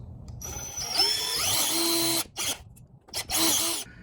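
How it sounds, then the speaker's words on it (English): A power drill drilling pilot holes for a weightlifting platform whines at high speed for about two seconds, then cuts out and restarts in short bursts, close and loud. "We're gonna start off and drill some pilot holes."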